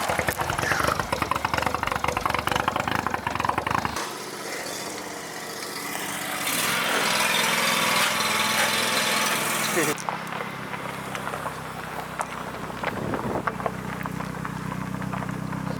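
A modified car engine runs on the road, a rough, fluctuating rumble that swells and fades, with nearby voices talking over it.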